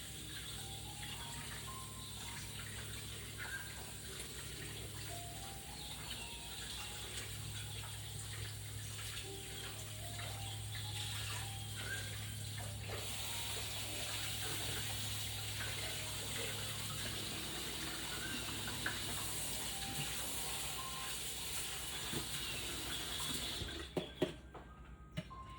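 Canned beans being rinsed under a running kitchen tap, a steady continuous stream of water splashing into a sink throughout, with no talk.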